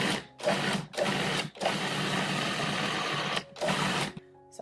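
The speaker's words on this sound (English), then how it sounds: "we're going to put the lid back on, and then we're going to pulse until it's really creamy." A food processor pulses avocados for guacamole in loud motor bursts of roughly a second each, with short pauses between and one long continuous run in the middle.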